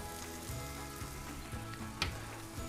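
Lavash rolls filled with mushrooms and dill fry in a pan, a steady close sizzle broken by a few soft clatters and one sharper knock.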